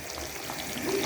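Marinated fish slips into a thick, simmering meen kulambu with cooked brinjal, producing a continuous close sizzle and bubbling that swells slightly toward the end.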